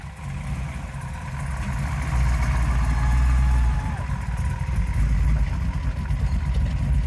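A car engine runs steadily in first gear at low speed, a loud low drone that swells slightly mid-way, with no talk over it.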